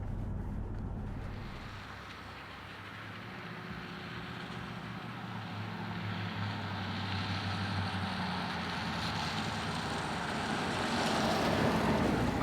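A Jaguar XK8 drives along a hill road, with a steady low engine and road rumble and the wash of passing traffic coming the other way, continuous and fairly close throughout.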